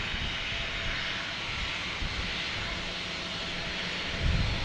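Alaska Airlines jet airliner at Boston Logan Airport, a steady loud engine roar filling the whole stretch with broadband rumble, swelling slightly near the end, with no talk over it.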